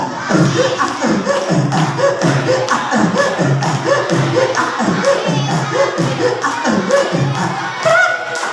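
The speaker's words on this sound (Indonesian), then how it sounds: "teman-teman boleh tepuk tangan sambil bilang ae 1 2 3" Schoolchildren clap in a steady rhythmic beat while chanting together at a storytelling event in a Jakarta school, the regular claps and voices filling the room loudly throughout.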